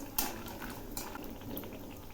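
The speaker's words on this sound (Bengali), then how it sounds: "তেল গরম হয়েছে, এর মধ্যে কয়েকটা বড়ি ভেজে নিচ্ছি" Bori lentil dumplings frying in hot mustard oil, a quiet bubbling sizzle with a few faint clinks of a utensil against the pan over two seconds.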